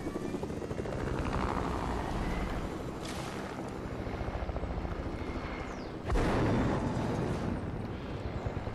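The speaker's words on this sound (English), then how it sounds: "There's a helicopter." A video game helicopter drones steadily with a rhythmic rotor chop, loud and continuous, swelling briefly partway through.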